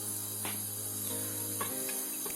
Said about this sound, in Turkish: Ocağın altını açıyorum.